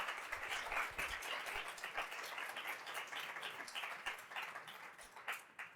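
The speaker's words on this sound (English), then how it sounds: "please, just another round of applause for these amazing women" Sustained applause from a conference audience honoring a panel of women at a leadership event, a dense, steady wash of many hands clapping that carries on without a break for several seconds.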